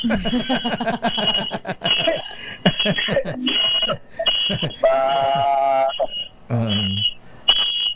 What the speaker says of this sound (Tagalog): may nag-a-alarm